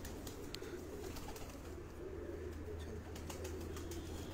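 Soft, low cooing from a pigeon at a rooftop loft repeats faintly against a quiet outdoor background.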